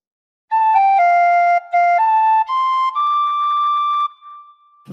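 Tin whistle playing a short phrase of Auld Lang Syne, a series of clear, pure, breathy notes stepping up and down, played close and alone with brief gaps between some notes.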